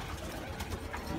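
A pigeon coos softly close by. The low, murmuring calls sit under a steady wash of background noise and do not stop.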